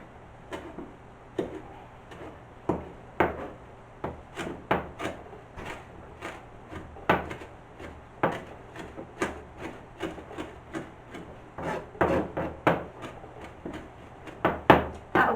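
A knife chops fresh basil on a wooden board with repeated sharp, close taps in an irregular rhythm, alone with no talk.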